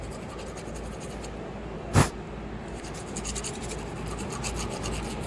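Scraping corrosion out of holes on a 2012 Honda Civic: repeated close, gritty rasping and rubbing strokes with one sharp scrape-knock burst near two seconds, at moderate level without speech.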